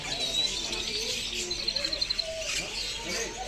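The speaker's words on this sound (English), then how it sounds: "Small parrots." Small parrots giving faint, quick high chirps and tweets in a short burst, close by but quiet.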